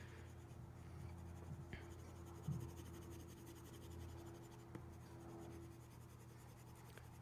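Soft, continuous scratching of a pencil moving across paper, faint and close, with occasional light taps and strokes.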